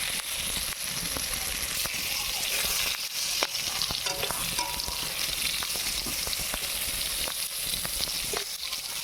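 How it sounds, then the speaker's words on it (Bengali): Pointed gourd (potol) frying in oil in a wok sizzles loudly and continuously, with dense crackling and frequent sharp spits close by. "পটলটা অর্ধেকটা ভাজা হয়ে গেছে, এখন আর একটু ভেজে নিলেই নামিয়ে নেব।"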